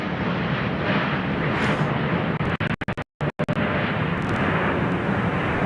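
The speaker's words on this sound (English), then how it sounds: "that Dreamliner must be vectoring across land for the majority of its flight" A Boeing Dreamliner jet flies overhead, a steady broad roar of engine noise that holds loud throughout, briefly cut by a few short dropouts near the middle.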